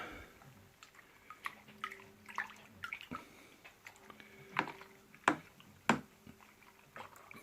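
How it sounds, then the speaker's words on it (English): Home brew pilsner lager mix being stirred, giving quiet, irregular liquid sloshing with soft knocks and splashes that build to a few sharper strokes near the end, with no talk. "And then give it all a good stir up."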